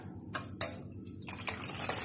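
Green tea splashing and pouring as it is tossed back and forth with a mug to froth it, a few quick liquid gushes and sharp knocks in close succession, near and fairly quiet.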